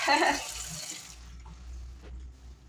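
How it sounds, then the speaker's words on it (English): Running kitchen sink tap water rinsing vegetables in a strainer, a loud splashing gush for the first half second before fading to low trickles and drips. "I'm going to wash these off in this strainer"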